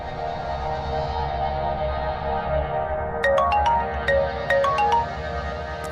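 A phone rings unanswered, a repeated bright electronic ringtone pattern in short bursts over a steady background of music or drone, with no speech.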